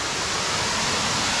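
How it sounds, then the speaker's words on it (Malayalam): Maranchode waterfall pours down into a stream, making a steady, dense rushing roar heard up close and loud throughout, with no other sounds standing out. "ഇതാണോ? മരഞ്ചോട് വാട്ടർഫോൾസ് അടിപൊളി."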